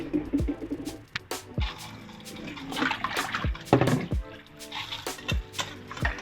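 Cool water splashes and trickles into a bowl of almonds, with clinks and bumps of handling throughout; steady, close, moderately loud.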